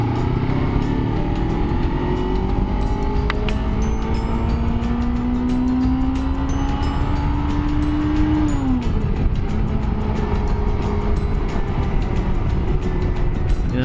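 A Suzuki Inazuma GW250 motorcycle engine droning steadily while riding, its pitch climbing gradually as it revs higher, then dropping sharply with a gear change, accompanied by constant wind rush throughout.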